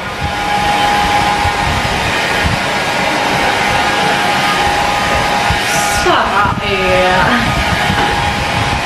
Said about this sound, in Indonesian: Ini udah selesai hair dryer.